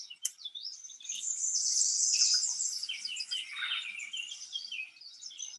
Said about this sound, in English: Just listening to all the birds singing.